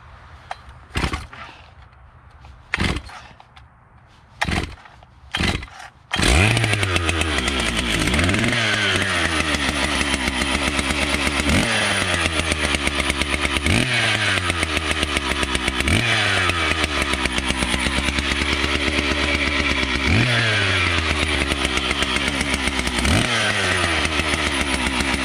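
A Stihl MS880 122cc chainsaw with no bar or chain fitted takes a few sharp pulls on the cord, then fires and runs loud and close, its engine revving up and down in repeated surges.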